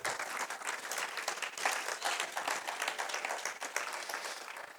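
A church congregation breaks into sustained applause, dense overlapping clapping from many hands that holds steady throughout with no voices above it.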